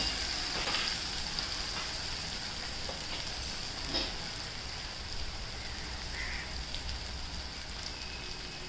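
Onion and tomato cook in a pan for a green chickpea and potato curry, giving a low, even sizzle with a few faint clinks and stirs, quiet and steady throughout.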